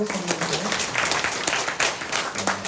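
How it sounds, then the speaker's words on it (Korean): A church congregation at a Saturday prayer meeting claps together, a short burst of dense hand clapping in a reverberant space with some voices mixed in. "우리 박수 한번 쳐야 되겠죠?"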